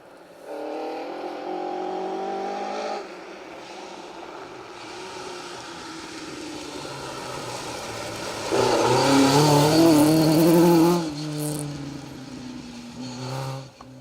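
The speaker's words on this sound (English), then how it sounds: "It's nice to hear these Group A cars." Group A rally cars race through a forest stage at the 2023 Roger Albert Clark Rally. Engines drone and rev past, with a loud, rising acceleration surge partway through before fading again, and no voices.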